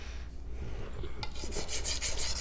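A Magnacut steel knife blade being sharpened, a series of raspy rubbing strokes growing louder and quicker toward the end, close and alone.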